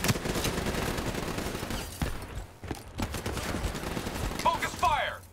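Gunfire in the video game Call of Duty Black Ops III as a cooling tower is attacked: dense, continuous bursts of automatic fire with explosions, loud and close, overlaid by game music and radio chatter.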